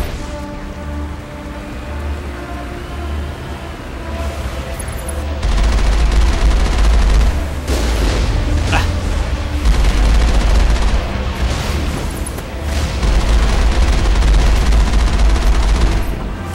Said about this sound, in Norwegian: Hva er det så mange som skyter raketter da?